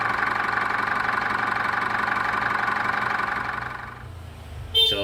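A Foton Thunder with a 2.8 Cummins diesel engine idles steadily after an injector oil seal replacement, a continuous close rumble that drops off near the end, followed by a brief sharp clatter.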